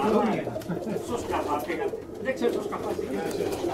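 Pigeons coo softly in the background, with someone talking steadily over the low, murmuring calls.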